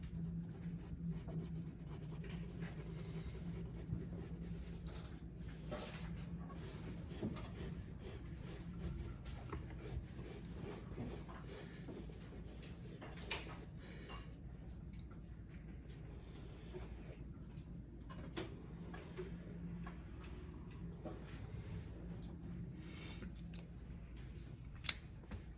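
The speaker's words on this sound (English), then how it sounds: "I'm drawing a little quick sketch of a section." A pencil sketches a quick architectural section drawing on paper, a soft continuous scratching and rubbing heard close and fairly quiet for the whole stretch, with no talking.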